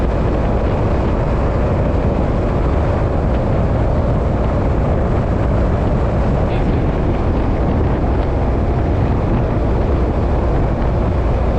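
Glastron CV16 speedboat engine cruising at about 3,000 RPM, a steady loud broadband roar mixed with rushing water and wind, with no breaks or changes across the stretch.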